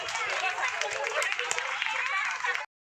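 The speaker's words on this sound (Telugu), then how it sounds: "క్లాప్స్ కొట్టండి." An audience at a furniture shop's tenth-anniversary event, where children receive prizes, claps together in a brisk, dense patter that carries steadily until it cuts off abruptly.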